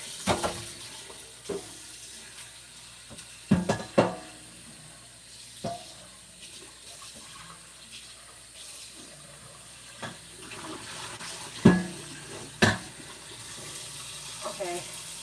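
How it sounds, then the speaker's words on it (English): Running tap water rinsing out a pan in a kitchen sink, a steady low wash broken by scattered clanks and knocks of cookware, with a few bits of speech. "Now I'm going to rinse this out."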